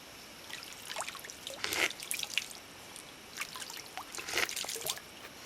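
Spring water wells up out of the ground on a wooded trail by an off-grid log cabin, giving soft, close trickling and dripping with intermittent brighter splashes over a quiet outdoor background.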